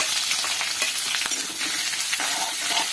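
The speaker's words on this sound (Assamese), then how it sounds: "এতিয়া মই পিঁয়াজ ডোখৰ দি দিছোঁ" Chopped onion sizzles loudly in hot oil in a kadai, a dense continuous frying hiss with occasional stirring scrapes, close and with no talking.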